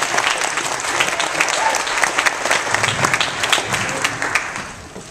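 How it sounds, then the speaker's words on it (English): A steady, dense round of applause from the audience at a Kwanzaa Umoja (first day) gathering runs evenly and loud throughout, fading slightly at the end. "now a round of applause for your elder."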